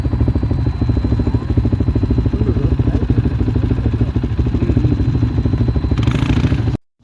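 Vehicle engines rumble steadily in a convoy crossing the Moroccan desert, a continuous close, loud mid-pitched drone with rattling clatter that cuts off abruptly near the end.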